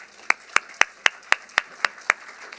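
An audience at a lecture applauds to welcome a speaker with a steady run of crisp claps, close and moderately loud, over a faint room hum.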